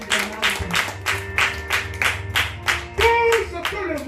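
A church congregation claps in rhythm to acclaim the Lord, steady loud beats about twice a second, with a sustained sung or voiced tone running underneath.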